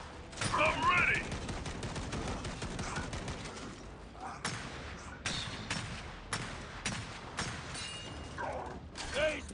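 Gunfire in the video game Gears 5 crackles in rapid bursts and single sharp shots, with mechanical clanks between them, loud and close throughout; a voice speaks briefly over the action.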